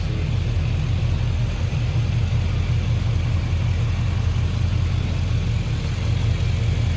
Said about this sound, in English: the engine idles nicely, as you can see